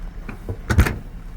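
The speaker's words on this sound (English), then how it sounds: "And then up top we just release the awning door" A latch releases and an awning door thumps open with a couple of quick knocks high up on a 2025 Entegra Coach Condor RV built on a Transit 350HD AWD chassis, close by and fairly loud.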